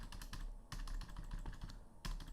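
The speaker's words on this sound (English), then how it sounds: "Can you hear the typing noise?" Rapid clatter of computer keyboard typing, steady irregular keystrokes close to the microphone with a couple of brief pauses, no voices.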